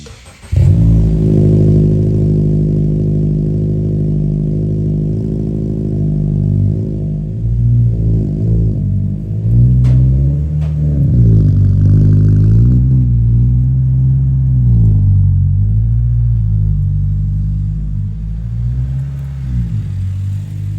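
A 2022+ Subaru WRX fitted with a Noble titanium exhaust idles with a deep burbling rumble, then revs repeatedly in rising and falling sweeps before settling back, loud and close, with no talking.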